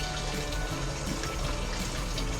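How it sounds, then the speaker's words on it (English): Thick custard poured from a container onto a trifle in a quick home kitchen dessert, giving a steady, close, soft liquid pour that runs continuously with no pauses and no voices. "don't spoon it, just pour"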